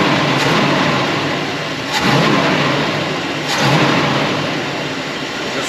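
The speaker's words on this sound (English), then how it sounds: "Just revs up real smooth without any hesitation." Hot rod engine revving smoothly, a loud close roar that swells twice in quick throttle blips over a steady idle.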